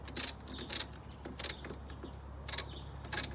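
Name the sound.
ratchet with 13mm socket tightening battery terminals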